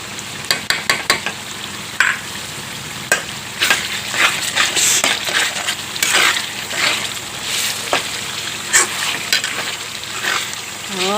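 Close sizzling and frying of shrimp paste in a wok, with scraping stirs and clatters of a utensil against metal, loud and irregular, without talk.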